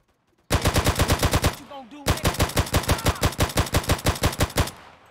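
Rapid automatic gunfire in Grand Theft Auto San Andreas Definitive Edition: two loud, close bursts of evenly spaced shots with a short break between them, nothing else heard.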